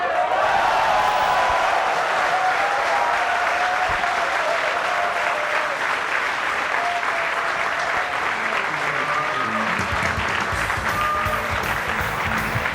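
Applause from a large crowd at a professional 9-ball pool tournament in Jakarta, steady and loud, rolling on for several seconds after a shot, with no speech.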